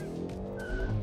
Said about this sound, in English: this car wheel spins like crazy thanks to the Pirelli P0 tires that are fitted to it